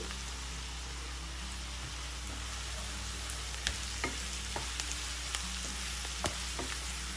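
Sliced onions and curry leaves fry in hot oil for an egg curry (pulusu), giving a steady, dense sizzle with a few sharp stirring clicks and scrapes near the end.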